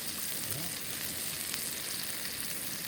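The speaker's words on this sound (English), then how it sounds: "I'm working on the frying pan and the little smoky sausages." Little smoky sausages sizzle in a frying pan at a swamp campsite breakfast, a steady close broadband hiss of frying fat that continues evenly throughout without pause.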